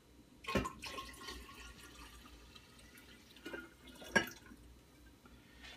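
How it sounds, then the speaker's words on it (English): Cold water pours into a drink dispenser holding tea solution, a quiet gurgling fill with two louder splashing bursts near the start and end. "Next thing I want to add is 4 cups of cold water."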